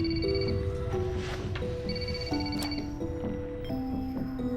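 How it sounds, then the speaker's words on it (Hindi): A telephone plays an electronic ringtone indoors in a drama scene, a steady melody of stepped notes repeating over a low background hum, with no talking. "कम से कम फोन तो उठा लो अली।"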